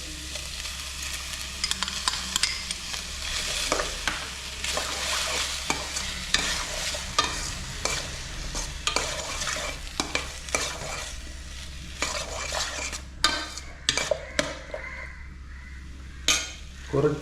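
Beans with capsicum fry in a pan for a mushroom salad, a constant sizzle under repeated scraping stirs and clinks of a utensil against the pan, loud and close.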